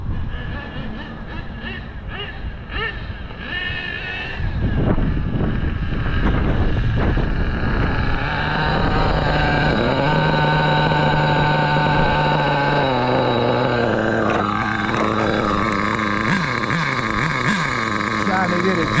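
An HPI RS4 Big Block RC car engine whines at a high buzzing pitch, idling at first, then revving louder and climbing through a long sustained run, bogging at the top end, with wind buffeting the microphone.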